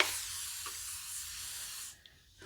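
A spray bottle mists water onto a face during a shave: one steady hissing spray of about two seconds, close and fairly loud, then a short quiet gap and a small bump.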